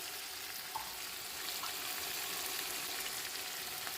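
Chicken fries in a pot with a steady, even sizzle and crackle, a moderate hiss running unbroken with no talking.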